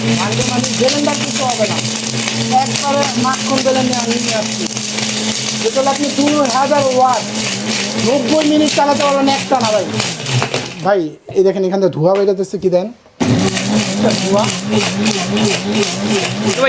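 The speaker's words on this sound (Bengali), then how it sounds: "ইট ভাঙা মেশিন ভাই ব্লেন্ডার না ভাই ইট ভাঙা মেশিন" A heavy-duty 2000-watt blender crushing brick roars steadily and loudly, with a grinding motor drone under continuous excited talking, briefly cutting out near the end before starting again.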